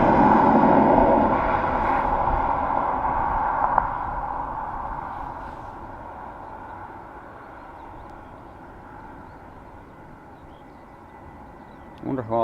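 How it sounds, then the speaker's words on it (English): A Ryanair Boeing 737 MAX arrives at Dublin Airport with a loud, broad jet roar that fades slowly and steadily. Voices are heard under the engine noise. "Our second Ryanair Boeing 737 MAX coming in from a place I cannot pronounce."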